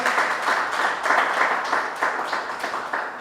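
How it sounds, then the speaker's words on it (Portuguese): A church congregation gives a strong round of applause during a sermon, with clapping in loose rhythmic waves at a steady moderate level and no talk over it. "Então dá um aplauso bem forte ao Senhor."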